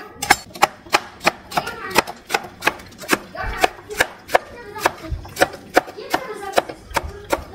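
Knife chopping garlic on a cutting board, a quick regular series of sharp taps, close and distinct, with faint background noise between strikes.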